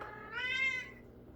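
A single drawn-out cat meow, clear and fairly close in a quiet room, rising and then fading over about a second.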